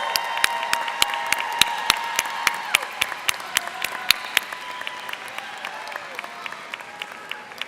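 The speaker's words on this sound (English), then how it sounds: "give them a round of applause" Graduation ceremony audience applauding warmly, with many hands clapping in a dense, sustained roar and sharp individual claps standing out, gradually thinning toward the end.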